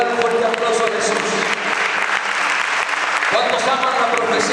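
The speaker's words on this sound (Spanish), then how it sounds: "dar un fuerte aplauso a Jesús." Church congregation applauding steadily throughout, a dense wash of many hands under an ongoing voice with music or echo in a worship setting.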